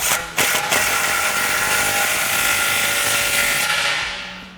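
An impact gun fitted with a 16mm socket runs in one loud, continuous buzzing burst, tightening an exhaust clamp on a 2009-2018 RAM 1500 5.7L dual exhaust, then quickly winds down.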